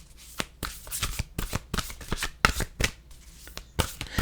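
A deck of oracle cards being shuffled by hand, close and crisp, in a quick series of riffling bursts with short pauses between them.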